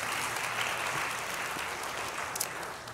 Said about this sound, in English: Yeah, you guys can clap, it's cool.